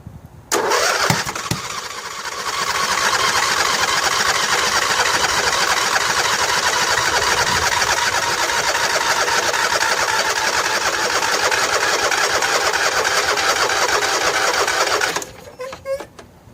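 A Briggs & Stratton Entek 22 HP twin engine on a John Deere L118 lawn tractor cranks briefly, catches and runs loud and steady for about twelve seconds before cutting off, close by.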